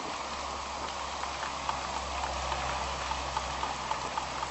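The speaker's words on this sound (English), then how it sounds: "the rain" Steady rain falls on a rainy day, a dense even hiss with scattered louder drips and patters close by, no voices.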